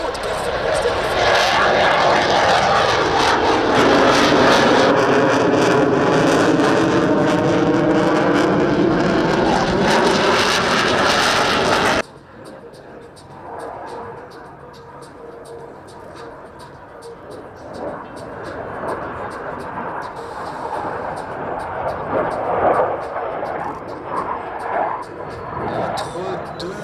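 Military jet roaring loudly at full power during a high-performance takeoff at the Avord airshow, a dense sustained blast that cuts off abruptly, followed by a fainter distant engine rumble with crowd murmur.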